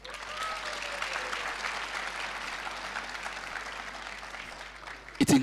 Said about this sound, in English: can we give Yeni AI another round of applause?